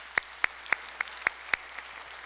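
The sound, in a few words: church congregation applause of thanksgiving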